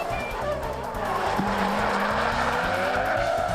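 A small blue drift car slides at low angle during a Lone Star Drift competition round, its tires squealing steadily over a loud, continuous engine roar, close and sustained.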